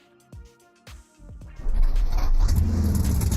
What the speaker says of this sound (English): Sounds like you've told aliens to make a V8.